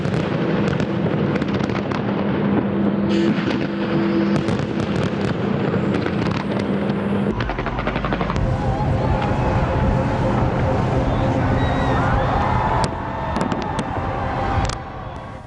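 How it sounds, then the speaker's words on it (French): New Year fireworks over the London Eye celebrating 2020 crackle and boom continuously, dense bursts layered with crowd roar and distant whistles throughout. "Les Londoniens ont célébré le passage en 2020 avec un feu d'artifice sur la grande route du London Eye."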